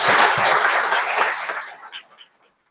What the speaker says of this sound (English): give both of them a big applause